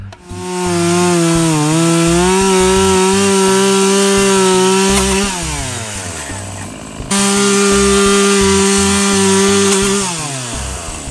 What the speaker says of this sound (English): let's go ahead and pull out the chainsaw and see how it works.